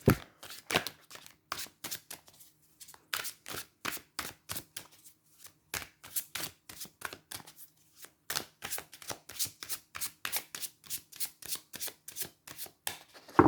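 Light Seer tarot cards handled and shuffled close up, a long run of quick, crisp riffling slaps in an irregular rhythm with brief pauses, heard alone without talk.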